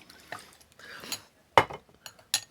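Creme de menthe poured into a Boston glass for a Grasshopper cocktail: a few short, quiet liquid trickles and splashes, with brief sharp glassy clinks between them.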